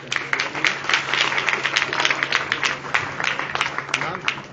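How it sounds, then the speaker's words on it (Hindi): An audience at a social welfare trust's annual day claps in a loose, scattered round of applause. Voices chatter over the clapping, which holds steady at moderate loudness. "एक बार तालियां हो जाए।"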